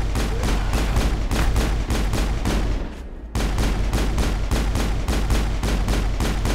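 Rapid automatic gunfire from the Mass Effect video game during a fight with geth or husks at a geth outpost, loud and sustained with evenly spaced bursts, breaking off for a brief pause before resuming at the same steady pace.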